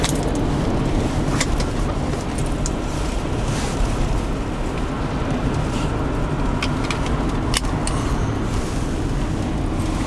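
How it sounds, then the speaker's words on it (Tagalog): Steady road and engine rumble from inside a taxi moving through Nagasaki traffic, a continuous broadband drone with faint ticks and rattles over it and no talking. "Traffic."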